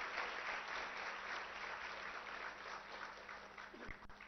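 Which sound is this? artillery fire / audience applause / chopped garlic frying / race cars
audience applause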